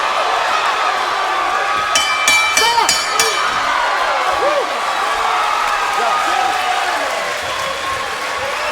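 Crowd cheering and applauding at a boxing match between Silas Ortley and Nick Runningbea: a sustained roar fills the arena, with a commentator talking over it and a brief burst of sharp clinks.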